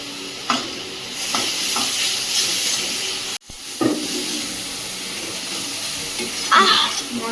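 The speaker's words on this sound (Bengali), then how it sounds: "মশলাটা খুব ভালো করে ভেজে নিয়েছি, এবার মাংসটা দিয়ে দেবো।" Spice paste for a mutton curry, with red chilli powder, fries in a pot with a continuous sizzle and hiss, broken by several spoon scrapes and knocks and one brief pause in the sound.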